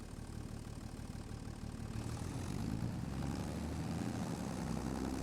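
In the Farming Simulator 25 video game, a tractor engine drones steadily at idle and then grows slightly louder as it revs up, a continuous low mechanical rumble with no speech.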